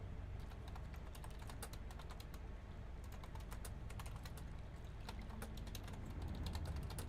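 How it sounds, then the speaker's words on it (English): Rapid typing on a wireless Bluetooth keyboard, many sharp key clicks in a steady irregular stream, close and fairly quiet, with no talking. "If you hear all the clickety clacketing, it is my handy dandy wireless Bluetooth keyboard"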